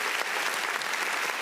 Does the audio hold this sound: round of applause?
yes